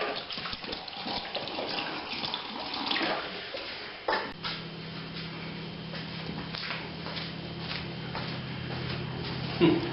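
Water runs and gushes into a big tub for a homemade whiskey mash. It is a steady, close splashing flow that softens partway through, with no voices.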